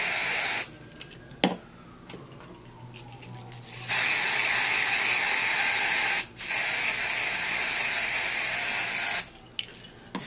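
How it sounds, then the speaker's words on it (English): Aerosol lace tint spray hisses onto a wig in several long bursts with short pauses between them, loud and close, with no voices. "I'm going to go ahead and spray this unit with some lace tint spray"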